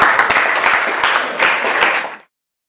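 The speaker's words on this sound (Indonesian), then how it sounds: "Tepuk tangan buat kita semuanya." A classroom of students breaks into applause, a loud burst of dense clapping with a few sharper individual claps that cuts off abruptly after about two seconds.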